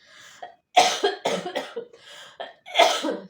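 A person with a cold gives a series of close, loud coughs in quick uneven bursts, about six or seven, with brief pauses between them and some throat clearing.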